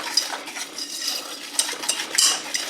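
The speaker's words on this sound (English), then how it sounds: "you want to whisk that in really good until you start to feel the sugar dissolve just a little bit" Wire whisk beating sugar into eggs in a heavy-bottomed stainless steel pot, a rapid, continuous metallic scraping and clinking close up, with no talking.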